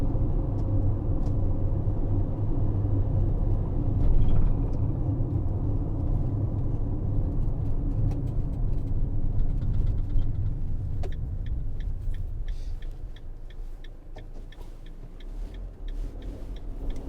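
A 2019 Citroen Relay 2.2 BlueHDi L2 H2 van drives over a bumpy road, with a continuous engine and road rumble plus scattered knocks and rattles from the cabin, heard close from inside.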